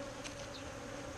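Bees droning steadily and close around an open hive while mated Carniolan and Buckfast queens are being introduced, a dense continuous buzz with a low hum beneath.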